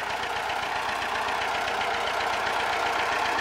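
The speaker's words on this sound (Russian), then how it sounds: "Вот так, на таком тракторе." Small T-25 tractor engine running steadily nearby while raking hay, a loud continuous chugging with rapid knocking pulses and no talking.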